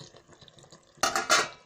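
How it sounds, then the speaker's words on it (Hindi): A lid lifted off a cooking pot of spicy achari aloo, giving a sudden close metallic clatter and scrape in two quick bursts after a quiet kitchen background. "अब हम ढक्कन खोल के देखते हैं।"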